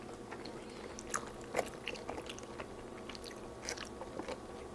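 Close, steady crunching and chewing of crisp Taco Bell tacos, a chalupa and a Doritos Locos taco, with repeated bites and mouth sounds over a low background hum.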